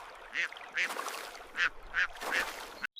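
Ducks swimming on water give a string of five or six short, bright quacks at uneven intervals over a soft background, fairly close, with a brief gap of silence near the end.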